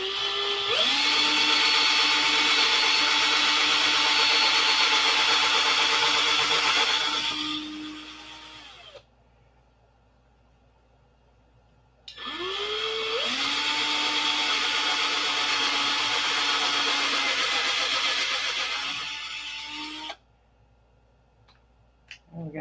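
A cordless drill with a weak battery bores a 3/32-inch hole for a P-47 model wing, whirring up in two long close bursts, each spinning down and stopping before near silence.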